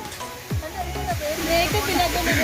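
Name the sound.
waterfall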